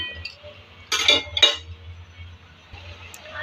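A lid is set onto a cooking pot in a home kitchen, giving two quick metallic clinks close by over a low background hum.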